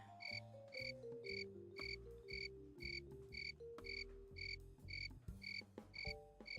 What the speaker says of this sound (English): Why do I still hear crickets in this bar